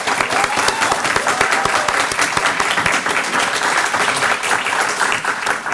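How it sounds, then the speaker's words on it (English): At a startup pitch showcase, the audience applauds the competitors after the big check is presented, loud, steady clapping from a crowd with individual sharp claps audible throughout. "Let's give a round of applause for our competitors."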